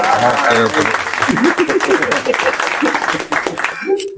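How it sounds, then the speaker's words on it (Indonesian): Studio audience applause during a podcast taping at a seminary in Palembang, a steady loud clatter of many hands running under overlapping talk for about four seconds. "Beri tepuk tangan."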